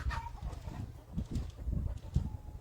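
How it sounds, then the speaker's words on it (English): Backyard chickens squabble and cluck irritably at one another outdoors, a steady run of close, low agitated calls and rustling over a couple of seconds with no talking. "My chickens are a little angry today with each other."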